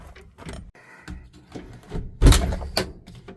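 Interior door handle on a Geo Tracker being worked: after some light handling rustle, a loud, close clunk of the latch releasing, followed by a second sharper click as it snaps back.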